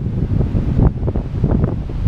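Strong wind buffeting a microphone, producing a heavy low rumble with irregular gusty thumps.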